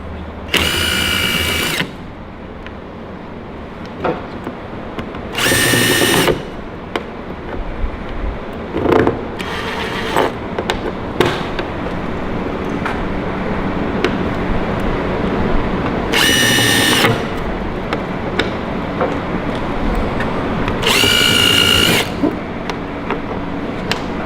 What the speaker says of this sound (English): Now we like to come in with a stepper bit. Just makes for a cleaner hole.